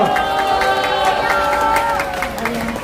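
Crowd at a Saturday street rally in Korea cheering and clapping to welcome a host, a dense steady wash of applause and shouts from many people, fairly loud and continuous, easing slightly near the end.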